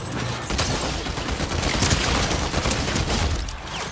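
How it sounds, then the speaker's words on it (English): Rapid assault rifle fire from the video game Fortnite crackles densely and loudly for several seconds, with overlapping shots and battle noise throughout. "all-around combat assault rifle."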